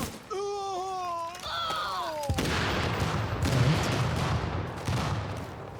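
Several frag grenade explosions in a first-person shooter video game, a sharp blast followed by a rumbling, crackling spread of detonations and debris, with a brief whistling, wavering tone beforehand.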